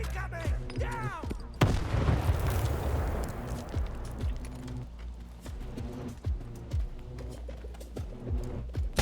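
Grenade blast in the video game STALKER 2: Heart of Chernobyl, a sudden loud boom with a rumbling tail that decays over several seconds, with shouted voices before and after.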